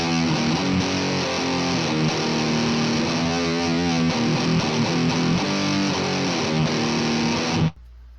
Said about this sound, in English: Let's take the legendary or infamous, whichever way you look at it, death metal distortion from DoD.